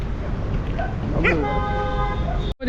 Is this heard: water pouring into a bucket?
no